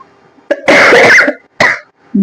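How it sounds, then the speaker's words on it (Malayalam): Two harsh coughs, the first a long raspy burst and the second shorter, close to the mic, with a brief throat sound at the end. "ചുമ വന്നു ക്ഷമിക്കുക"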